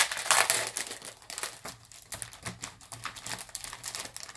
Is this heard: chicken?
no